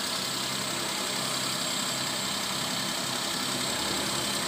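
A Suzuki Alto engine idling after a cold start, a steady loud broadband drone with no pauses and no voices.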